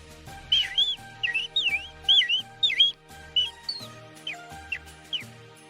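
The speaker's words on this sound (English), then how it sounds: "I just like making funny noises while whistling." A person whistles playful, sliding chirps and warbles in short bursts, fairly faint, over a quiet background hum.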